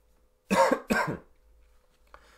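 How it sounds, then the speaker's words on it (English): A man gives two quick, close coughs in a row, loud and dry, followed by a quiet room with a faint rustle. "Got a bit of a cough today, so I'll apologize in advance for more coughs that I'm sure are coming down the pipeline here."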